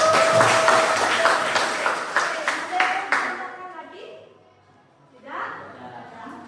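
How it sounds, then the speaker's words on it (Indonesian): Pupils in a classroom clap together in a lively burst of applause lasting a few seconds before fading, with a teacher's voice heard afterward. "Ya, lengkap sekali, kasih tepuk tangan."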